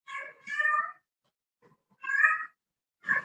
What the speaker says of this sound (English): the singing kitty